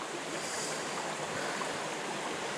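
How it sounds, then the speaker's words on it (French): A mountain river fed by a mountain lake rushes steadily past, a continuous broadband wash of flowing water with no pauses, heard alone. "C'est magnifique, magnifique cette partie de rivière"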